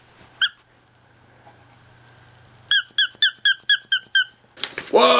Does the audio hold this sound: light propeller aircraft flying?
no